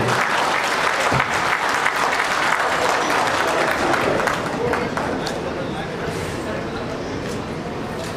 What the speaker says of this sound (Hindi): कमान एक जोरदार तालियां श्वेता के लिए बननी चाहिए